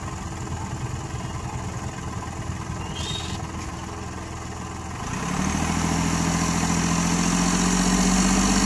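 An idling Hyundai Xcent diesel engine with a low-pickup fault rises into a steadier, louder rev that holds on, close and continuous.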